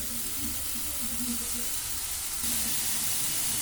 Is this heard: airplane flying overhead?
no